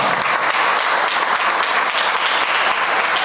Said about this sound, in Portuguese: Você pode dar uma salva de palmas ao Senhor por essa palavra?